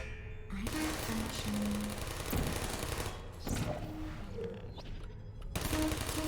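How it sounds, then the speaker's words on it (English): Turrets in the Portal video game fire loud, rapid bursts of automatic gunfire in several sustained volleys, broken by brief pauses and mechanical beeps, with no voices. "More turrets! Love it when turrets happen."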